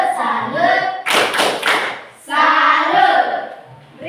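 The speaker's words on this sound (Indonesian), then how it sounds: "Tepuk salut untuk kelompoknya Landi." A group of children claps and chants the 'tepuk salut' salute in rhythm, with bursts of clapping between the chanted words, close and loud.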